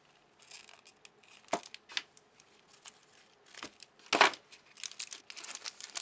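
Scissors snip through ribbon close up, with a few sharp cuts standing out among softer rustling and crinkling handling noises.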